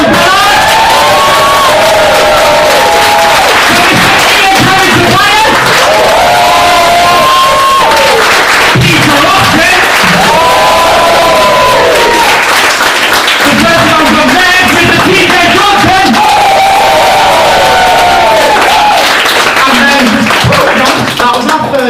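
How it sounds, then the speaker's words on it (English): Comedy society stand-up show crowd applauding and cheering loudly for the first act, with whoops, shouts and screams riding over continuous clapping for over twenty seconds. "can we get a big round of applause for the first act?"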